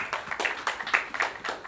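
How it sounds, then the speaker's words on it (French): Audience applause at a pharmacy-profession panel event as a pharmacist guest is welcomed, a short burst of clapping with scattered sharp claps over a steady patter, fairly close and moderately loud, with no talk. "Sous vos applaudissements, s'il vous plaît"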